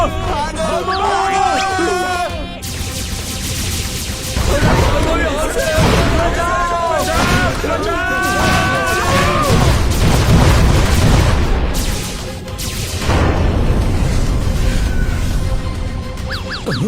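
A giant spaceship attacking in a Motu Patlu cartoon produces loud booming explosions and bursts of gunfire, joined by excited cartoon voices and whooshing effects.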